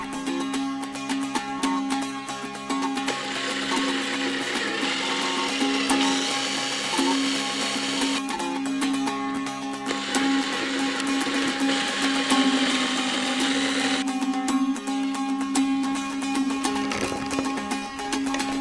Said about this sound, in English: Mark and drill out clearance for the mounting screws.